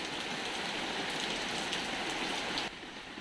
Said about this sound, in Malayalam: അയ്യോ, മഴ പെയ്യുന്നുണ്ട്.